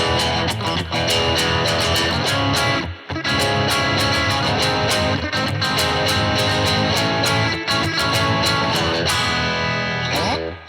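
Squier Classic Vibe '60s Mustang electric guitar with pickups out of phase, overdriven, thinner nasal tone, chugging chords and picked notes played steadily and loudly, with brief pauses between phrases.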